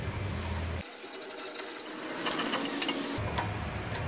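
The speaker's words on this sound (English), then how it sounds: "now I'm gonna get a ratchet and make my life easier" A hand ratchet with a 17 mm socket loosens car lug bolts. Quick runs of sharp mechanical clicks come in bursts, close by, with a short quieter gap between them.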